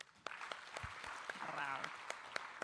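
Applause from an audience at a manufacturing expo in Nairobi welcoming the President, a steady wash of clapping with sharp individual claps standing out, and a voice speaking over it.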